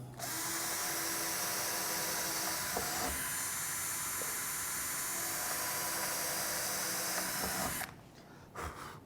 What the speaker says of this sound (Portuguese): Já vou furar aqui do lado.